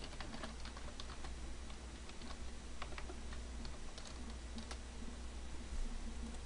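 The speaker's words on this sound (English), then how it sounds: "And you have to type in your password." Password being typed on a computer keyboard, a quick irregular patter of light key clicks, close and fairly quiet over a steady background hum, with no one speaking.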